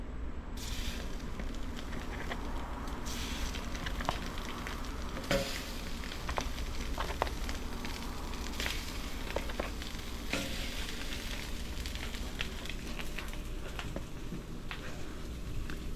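Italian sausages sizzling on a gas-fired griddle with a steady crackling fry and scattered sharp pops and spatters throughout, close and continuous, no talking.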